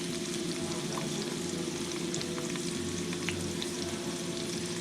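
Sliced potatoes and onions frying in a pan, a steady, even sizzle of hot fat with scattered small pops and crackles, close and continuous with no talking.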